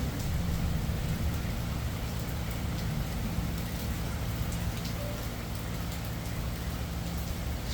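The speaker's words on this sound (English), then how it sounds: "that's rainy season in Thailand" Heavy tropical downpour during Thailand's rainy season, a dense, steady hiss of rain drumming on surfaces that stays constant and loud throughout, with no voices.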